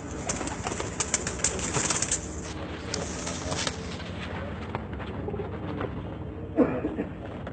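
Pigeons cooing softly nearby in repeated low calls, with occasional wing flaps and faint background bustle.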